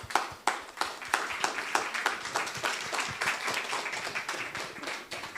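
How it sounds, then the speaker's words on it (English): Applause at a business forum chapter meeting: a modest group clapping with distinct, fairly sparse individual claps that rise and dip unevenly, moderately quiet in the room. "Please give a big round of applause."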